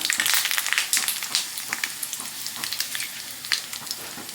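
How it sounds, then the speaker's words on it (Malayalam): Hot oil sizzles and crackles close up as mustard seeds and red chillies fry, with sharp pops of bursting mustard seeds through a steady frying hiss. "കടുക് പൊട്ടി വന്നിട്ടുണ്ട്."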